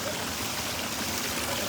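Water pours steadily at the base of a waterfall in Austin, Texas, a constant broadband rush with fine splashing texture, moderately distant and unbroken.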